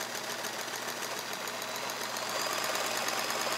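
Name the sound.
Kenmore 1430 all-metal sewing machine stitching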